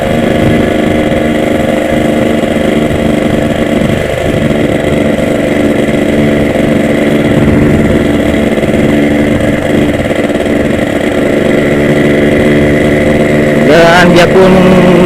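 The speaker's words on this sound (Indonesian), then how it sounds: "Mana bisa dimakan suara knalpot." A Yamaha RX-King two-stroke motorcycle runs with its exhaust loud and close, a steady buzzing drone that holds evenly throughout, with a brief rising rev right at the end.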